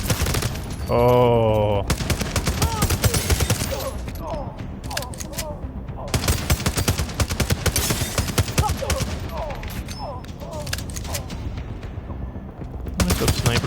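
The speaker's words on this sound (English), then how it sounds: "I like the realism when you're shooting a gun, though." Rapid bursts of automatic gunfire and scattered single shots from the video game The Division Resurgence ring out loud and near for most of the stretch, with a brief electronic tone early on and a short spoken exclamation.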